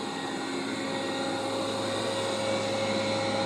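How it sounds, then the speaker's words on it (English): Roborock Q5 Max+ robot vacuum cleaner running indoors, a steady whirring motor drone with a constant high whine, close and continuous without pauses. "You're going to be able to hear this vacuum vacuuming in your room"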